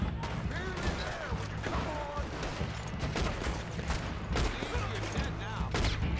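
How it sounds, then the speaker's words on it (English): A Gatling gun firing in the Red Dead Redemption video game, a long, dense stream of rapid shots over several seconds, loud and close, with a few scattered distant bangs and faint game voices mixed in. "Did have a Gatling gun."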